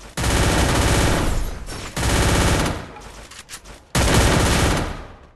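Bursts of automatic gunfire from a SCAR rifle and MP5 in Free Fire, loud and dense, in three sustained volleys separated by brief drops, with no talking.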